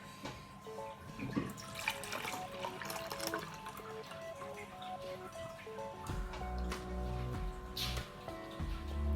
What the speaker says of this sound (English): I'm going to very carefully pour this in